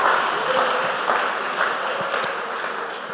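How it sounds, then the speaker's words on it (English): Supporters at a school quiz competition clap steadily, a dense crowd applause holding at an even level throughout without much rise or fall. "A thunderous round of applause for yourselves for coming to support your schools."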